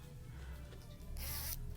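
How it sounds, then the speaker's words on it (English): Zipper on a Stitch hoodie being pulled open in a hotel gift shop, a bright rasping burst of about half a second near the end, close and clear over a low background hum. "Unzip the zipper"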